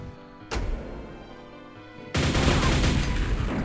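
Gunfire in the shooter game Quake: a sharp burst opens a sustained stretch of dense firing and explosions, then a louder, thicker barrage takes over near the end, loud and close with no voices.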